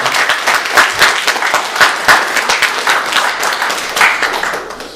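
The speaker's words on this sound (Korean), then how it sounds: "모두들 다 박수로 축하하겠습니다" A church congregation applauds together for members' birthdays during a Sunday worship service, with dense, steady clapping from many hands that carries on without a break for several seconds.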